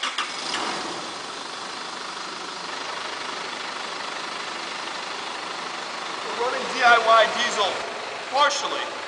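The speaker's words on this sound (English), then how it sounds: "There's no problem with the engine sound, there's no problem with the exhaust." An Isuzu pickup engine burning fuel made from recycled oil runs at a steady idle with an even, rumbling noise, and brief voices sound near the end.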